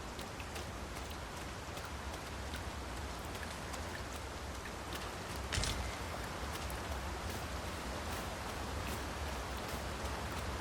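Steady rain falls in the Dragon's Dogma 2 game world, a dense, even patter of drops on surfaces that holds throughout, with one slightly louder splash or gust midway and no voices.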